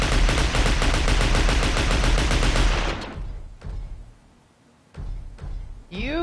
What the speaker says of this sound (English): The heavy autocannon, you just look at it and you're like, that's a serious weapon.